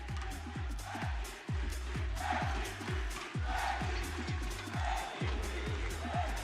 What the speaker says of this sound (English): He set the crowd off.